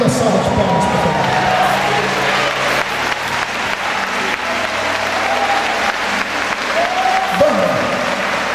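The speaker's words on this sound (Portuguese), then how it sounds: "De pé, com uma linda salva de palmas, por favor." A crowd applauds steadily, with continuous clapping filling the room and faint cheers rising now and then.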